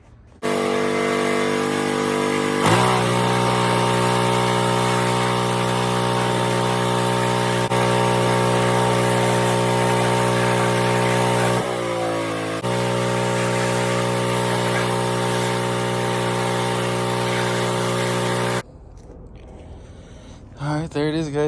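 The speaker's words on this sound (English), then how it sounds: "I'm gonna pressure wash everything, try and pressure wash the car and the engine" A pressure washer sprays a car and its engine bay, making a loud, continuous hiss and motor drone with a couple of brief dips, then stopping near the end to leave quieter handling noises.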